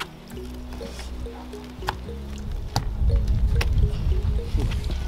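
Shea butter paste being beaten hard by hand and mixed with water in a Ghanaian village makes wet squelching, sloshing slaps in an irregular rhythm, close and fairly loud, with a low steady hum in the background.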